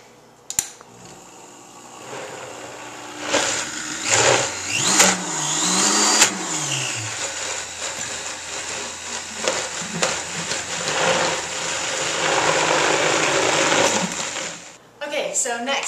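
A countertop blender whirs loudly through a thick cashew nut butter cheese mixture, its motor pitch rising and dipping as the load shifts, running steadily for most of the stretch before cutting off near the end.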